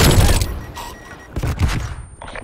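A grenade blast in the multiplayer video game Call of Duty Cold War booms loudly up front, followed by scattered thuds and crackling debris as it fades.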